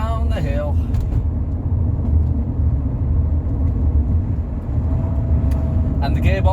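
Rover 45 Impression S3 with a CVT gearbox rolling downhill at a steady 2000 RPM, a loud, even engine and road rumble filling the cabin with little change throughout, and a voice briefly heard at the start and end.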